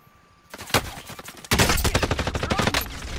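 Gunfire in Call of Duty Warzone: a few separate shots, then a sustained rapid burst of automatic fire, loud and close, with no talk over it.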